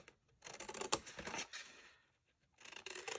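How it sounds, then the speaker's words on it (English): Scissors snipping paper along score lines for a Stampin' Up! paper craft, a run of close, crisp cuts, a pause, then more cutting, all soft and without talk. "And cut on those score lines"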